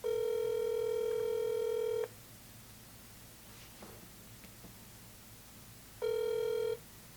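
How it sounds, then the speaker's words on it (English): A phone call rings out over a speakerphone, with one long two-second ring tone, a quiet pause with faint background hiss, and then the start of a second, shorter ring. "Let's see if he'll answer my phone call."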